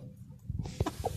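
An Aseel rooster clucks softly while eating feed tossed on the ground, a few short, close clucks and pecking sounds over quiet background.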